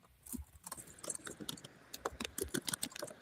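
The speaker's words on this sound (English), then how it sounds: "That's all y'all hear, isn't it? Is a bunch of typing." Rapid, irregular clicking of keys on a computer keyboard, close up and fairly quiet, in uneven bursts.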